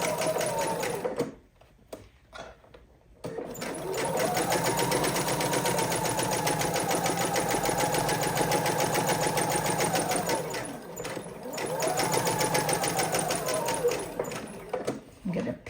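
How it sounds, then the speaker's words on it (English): A sewing machine top-stitches a dog bandana with a stitch length of 3 in two long, steady whirring runs. A short pause comes between them, and a voice talks over the sound. "now I'm going to top stitch."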